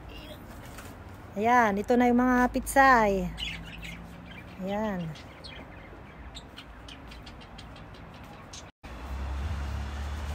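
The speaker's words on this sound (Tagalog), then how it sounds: "may ibon kami doon" Loud, harsh bird squawks come in a rapid cluster, then a single call follows, with a person talking nearby between them.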